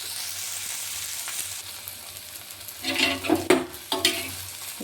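Sliced okra sizzling in a hot pan, a soft steady fry at first, then several louder scraping stirs near the end, up close with no talking.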